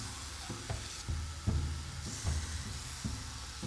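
A hot forged Viking seax blade plunged into a water bucket, giving a steady close hiss of sizzling broken by several dull low knocks at irregular intervals.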